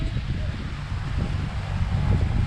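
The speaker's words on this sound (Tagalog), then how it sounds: "Ang sarap ng hangin dito sa amin. Oh. Ang lakas, ang lamig." Steady, cold wind rushing and buffeting close to the microphone on a countryside farm, a continuous low roar throughout with faint rustling.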